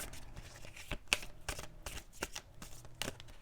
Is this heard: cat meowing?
no